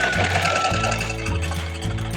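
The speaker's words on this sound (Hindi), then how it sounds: "इस तरीके से पलट कर एक सिलाई लगा लेंगे हाफ इंच का मार्जिन रखते हुए" A sewing machine runs steadily, stitching blouse fabric with a half-inch seam margin, a loud rapid mechanical whir with a few brief dips in speed.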